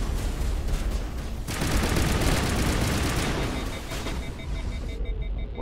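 Gunfire crackles in the shooter video game Mass Effect, dense overlapping bursts of shots and impacts forming a loud, continuous barrage that thins out toward the end.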